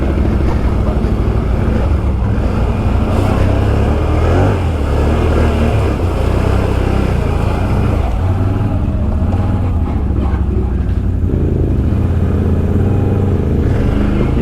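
A 2019 Can-Am Outlander 650 XMR ATV in thick mud drones loud and close, revving in sustained surges with steady low rumble and wind noise throughout, no voices.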